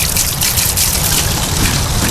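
Clear drinking water trickles steadily from a spring-fed source on a rural farm, a continuous close splashing and dribbling with no talk over it.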